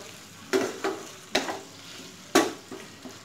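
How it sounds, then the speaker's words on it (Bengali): Spice masala cooking with fat in a pan on low heat for a biryani-style dish: three distinct spatula scrapes and stirs over a faint sizzle, close and alone. "এইবার আমি 2 থেকে 3 মিনিট হিট লোতে রেখে মশলাটা কষিয়ে নেব।"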